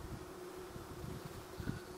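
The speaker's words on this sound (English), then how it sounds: "Let me just blow on the bees real gentle." Honeybees buzz on a hive frame, a close, steady droning hum that fills the short moment with faint breathy air noise beneath.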